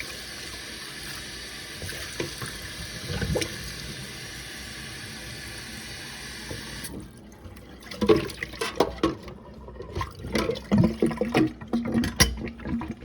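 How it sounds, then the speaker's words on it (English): Water runs and splashes as the barrel of a Lamy 2000 fountain pen is rinsed out at a tap, a steady background flow giving way to closer, louder irregular splashing and trickling in the second half. "and then just simply rinse out the barrel"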